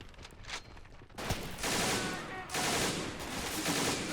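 Mosin rifles fire in a combat obstacle course challenge, a dense burst of loud overlapping gunfire that swells after a quieter opening and continues as sustained crackling volleys.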